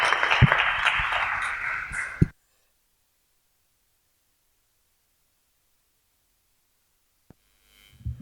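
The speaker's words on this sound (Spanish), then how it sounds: "un aplauso fuerte para ellos" Applause for podcast guests at a live evening show, a brief dense wash of clapping hands for about two seconds that ends abruptly and leaves near silence, with a faint noise at the very end.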